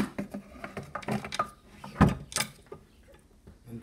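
A drawer is pushed shut indoors, with one firm wooden thud near the middle amid smaller clunks and rustling, fairly quiet and close.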